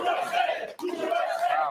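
A live studio audience at a New York City television taping cheers and whoops loudly in two close bursts, a dense crowd roar filling the room.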